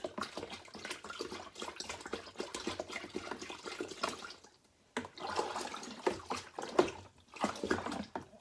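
Mead with yeast is shaken and sloshed inside a demijohn, giving rhythmic swishing liquid surges that go on steadily, pause briefly, then resume in strong bursts, close by and with no talking.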